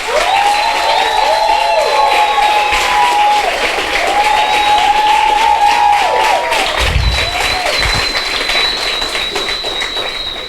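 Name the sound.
audience applause for the team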